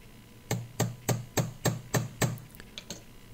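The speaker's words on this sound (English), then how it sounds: "I just tried to hammer it in so it gets a little bit of grip." Seven sharp metal-on-metal hammer strikes drive a star-shaped screwdriver into a screw on an airsoft rifle, in a steady rhythm, close and loud, followed by a few softer taps.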